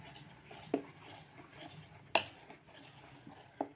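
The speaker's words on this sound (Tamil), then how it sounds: "போட்டு அப்படியே மிக்ஸ் பண்ணிப்போம். நல்லா மிக்ஸ் பண்ணிடலாம்." A pinch of cardamom is stirred into sweet bonda batter. A spoon clinks quietly against the bowl three times, with hushed stirring in between.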